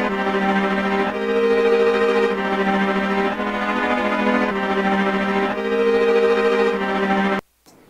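Plugin-made texture imitating string players' tremolo bowing: a dense, buzzy sustained chord with rapid shimmering movement, shifting harmony every second or so, loud and continuous before cutting off abruptly near the end.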